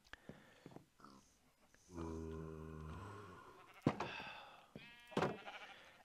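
Sheep bleating in the Minecraft video game, several close, loud bleats in succession, with a game sound effect in between.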